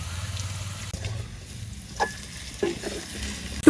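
Potato and chopped onion fry with turmeric and chili powder in a pan, giving a soft continuous sizzle with a few sharper stirring clicks, fairly close and without talk.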